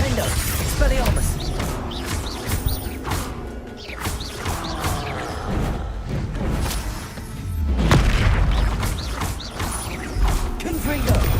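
Repeated crackling magical blasts and impacts from Confringo and other combat spells in Hogwarts Legacy, sharp bursts arriving every second or so over a busy background, with a voice speaking among them.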